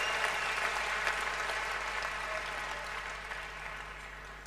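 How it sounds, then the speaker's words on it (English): A tennis crowd at the 1992 Brussels final between Becker and Courier applauds steadily, a broad, even wash of clapping that slowly tapers. "Well, the crowd really have come alive now for this match."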